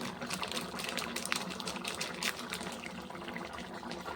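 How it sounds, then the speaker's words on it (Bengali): Egg curry gravy bubbling in a pan, a steady close simmer of soft broadband bubbling and popping with no voices. "এই দেখো ঝোলটা ফুটে গেছে"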